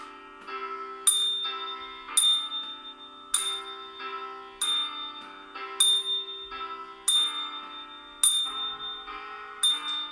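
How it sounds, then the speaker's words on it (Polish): A small hand bell rings repeatedly in a steady, even rhythm, each bright metallic ding decaying before the next, clear and close with no talk. "Możemy też kierować dzwonek za nim, przed nim."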